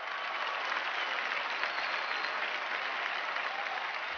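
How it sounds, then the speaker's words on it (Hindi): A studio audience at a Kapil Sharma comedy show welcomes a guest with steady, dense applause, a continuous wash of clapping that holds at an even, loud level throughout with no talk over it. "जोरदार तालियों से स्वागत कीजिए"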